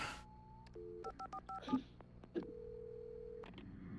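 Telephone keypad being dialed in Alan Wake, a quick series of distinct touch-tone beeps followed by one longer steady tone, quiet and close with no speech.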